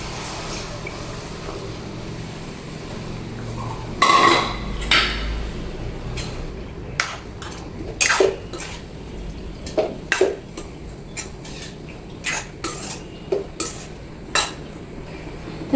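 Boiled drumsticks and their cooking water go into a cooking pot for a spicy traditional Maharashtrian curry, with a splash of pouring followed by a string of sharp metal clanks and scrapes of a utensil against the pot.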